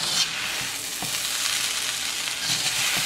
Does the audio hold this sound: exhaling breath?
no